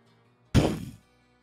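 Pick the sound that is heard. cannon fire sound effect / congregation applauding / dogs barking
cannon fire sound effect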